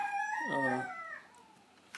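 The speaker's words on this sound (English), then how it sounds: "This chicken is back." A rooster crows once nearby, a rising then falling cock-a-doodle-doo call that fades out, with no talking over it.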